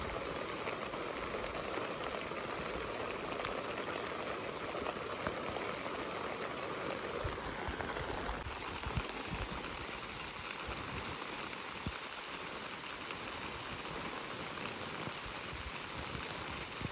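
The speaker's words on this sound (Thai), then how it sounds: "ฝนตกห้ามแล้วทุกคน" Very heavy rain pouring down in a forest camp, a steady dense hiss of drops pattering on leaves and surfaces, loud and unbroken throughout with no voices.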